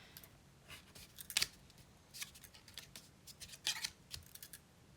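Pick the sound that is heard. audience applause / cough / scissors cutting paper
scissors cutting paper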